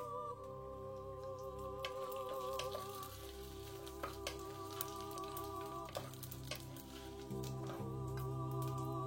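Whole biryani spices fry in ghee and oil with a faint, steady sizzle and crackle. Louder tonal background music plays over it throughout.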